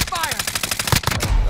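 Rapid automatic gunfire in Call of Duty Warzone bursts in a fast, loud, evenly spaced string of close shots that runs through the whole moment.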